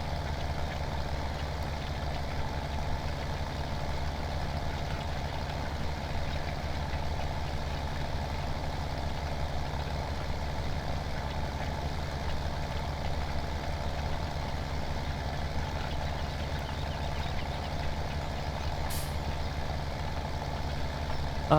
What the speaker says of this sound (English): I'll turn on four-wheel drive here for this tractor